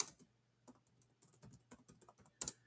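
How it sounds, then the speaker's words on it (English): Typing on a computer keyboard in short, quiet bursts of clicking keys with brief pauses, close and soft, with no one talking. "Give me some time typing it out."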